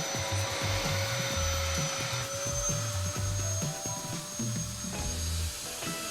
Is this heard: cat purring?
no